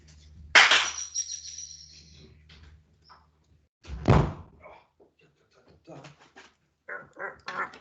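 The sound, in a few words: door being closed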